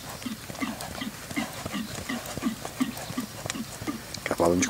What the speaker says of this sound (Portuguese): Cavalo de 4 anos, Tordilho, filho de especial HM, na égua Gem